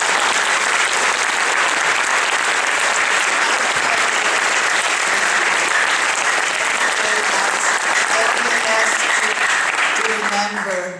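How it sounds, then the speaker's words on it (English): Loud, continuous applause from an audience at a Holocaust survivor's talk, a dense even wash of clapping lasting the whole stretch, with a voice emerging faintly near the end. "Please, one more round of applause for them."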